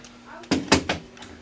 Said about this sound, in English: First thing you're going to do is you're going to open the front access door.